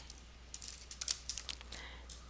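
Quick, light keystrokes on a computer keyboard as a PowerPoint subtitle is typed, a close, uneven burst of soft clicks lasting about two seconds.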